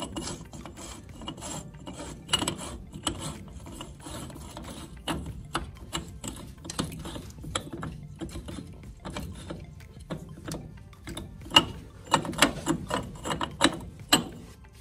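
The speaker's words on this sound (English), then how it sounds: "So I've got that torqued down to 50 foot-pounds" Ratchet wrench clicks in quick, uneven bursts while a nut is tightened on a Jeep CJ5 during a four-wheel disc brake conversion, close and fairly quiet with brief metallic scrapes between strokes.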